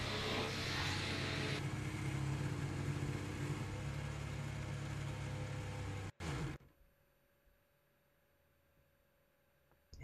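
A Formula 1 race car engine keeps running at the Abu Dhabi 2021 race, a loud steady drone that cuts off abruptly partway through, leaving faint background hum.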